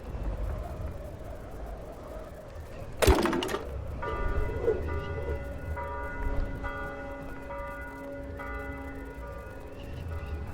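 In the puzzle game The House of Da Vinci 3, a bell is struck once with a sharp clang, and its ringing overtones linger and decay over several seconds above a steady ambient background.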